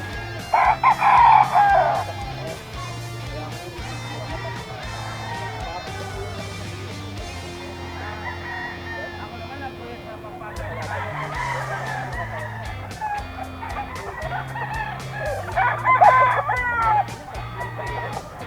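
Several gamecock roosters crow repeatedly over steady clucking from a flock of chickens at a market in Bulacan, Philippines, with faint background noise and a brief voice.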